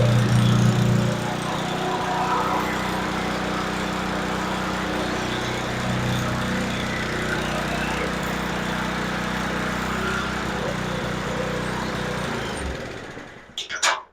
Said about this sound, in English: do we have an exhaust leak or something? I don't believe that it should be so loud.